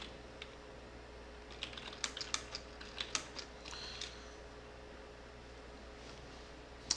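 A computer keyboard is typed on while coding a guessing game in Portugol Studio: a loose run of light, crisp key clicks, faint and fairly close, over a steady background hiss, with no speech.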